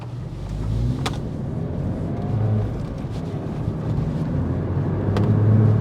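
A Mk7 Golf GTI fitted with Mk8 Golf R big brakes drives at normal speed, heard as a steady low road and engine rumble inside the cabin with some wind noise and a couple of faint clicks.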